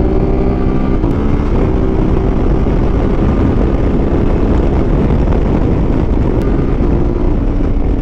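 CF Moto 450MT adventure motorcycle fitted with a 15T sprocket ridden at speed, its engine drone buried under loud, steady wind roar against the microphone throughout.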